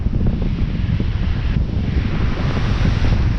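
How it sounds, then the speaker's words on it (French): Steady, heavy wind buffeting the microphone, a loud continuous low rumble with no gaps, like standing exposed in a strong gust. "Et là aujourd'hui il y a du vent"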